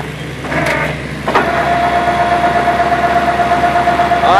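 Winch motor on a PMF roll-off trailer running steadily with a mechanical drone and a sustained whine that rises at the start and holds loud, no talk.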